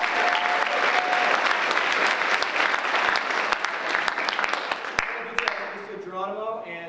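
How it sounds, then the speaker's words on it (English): A school audience applauds the students who made the 3D printed tweets, a full, steady round of clapping with a few sharp louder claps, thinning out toward the end as a voice begins. "So let's give them a round of applause."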